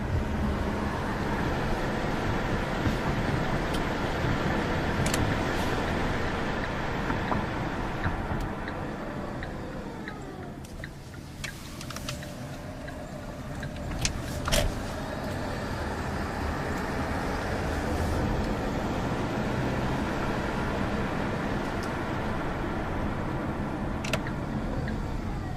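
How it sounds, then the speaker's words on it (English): A steady Kia Optima hybrid gasoline engine drone with road noise runs throughout, dipping briefly midway before settling back into an even hum, with a few light clicks on top. "Then the gasoline engine kicks in to help power the electric motor."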